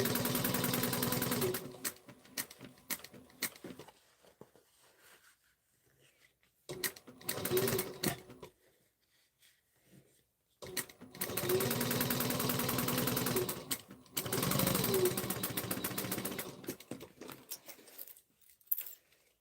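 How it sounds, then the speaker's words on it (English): A sewing machine top stitching a bag seam at one-eighth inch, running in several steady bursts of fast mechanical stitching separated by quiet pauses, close and clear with no talk. "we're going to top stitch on top at 1/8 of an inch"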